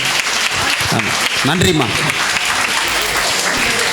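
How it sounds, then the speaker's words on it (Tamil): An audience at a Tamil film event claps steadily, with a speaker's voice and another person's voice heard over the applause in the middle of the clip. "நல்லா கைத்தட்டலாம்."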